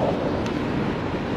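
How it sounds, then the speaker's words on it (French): Strong headwind buffets the microphone while riding a Segway GT2 electric scooter, a continuous, rough roar with no other clear sounds. "Et en plus, j'ai le vent de face."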